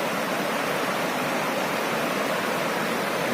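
A swollen stream after heavy rain flows strongly over rounded stones under a small bridge, producing a steady, broadband rushing hiss that continues without pause and without voices.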